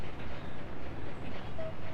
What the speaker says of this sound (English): send this train on its way again once it takes the wagons off.